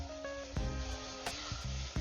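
Chopped onions frying in ghee over low heat in a dry sufuria, a steady close sizzle with soft scraping stir thumps recurring every half second or so, no voices.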